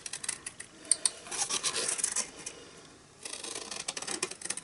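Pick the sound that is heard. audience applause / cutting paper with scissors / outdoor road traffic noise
cutting paper with scissors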